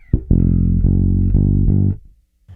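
Electric bass plays an easy funky blues walk-up without ghost notes: a handful of sustained, evenly spaced low notes climbing toward a resolution, loud and close, then a short pause before another note begins.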